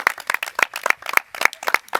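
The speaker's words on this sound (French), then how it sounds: "on acclame pour le Seigneur" A small group claps in quick, slightly uneven rhythm at a Christian baptism, the applause close and steady throughout.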